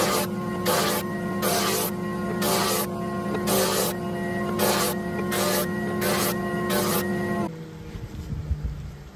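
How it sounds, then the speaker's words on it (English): A drum sander flattens glued wooden rings for a dome-top vessel, a steady motor hum broken by a regular pulsing rasp of abrasive passes that stops abruptly near the end as the machine winds down. "I'm going to use my drum sander."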